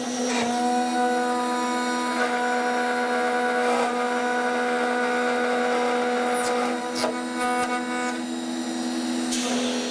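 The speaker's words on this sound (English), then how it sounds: "I'm going to take the most of the meat out of this with this big cutter and go into the corners with a 1/4 inch cutter afterwards." An air-operated plunge router with a large cutter routing wood for a guitar body gives a steady, loud, high-pitched whine with a strong tonal hum, holding continuously throughout with slight variations as it cuts.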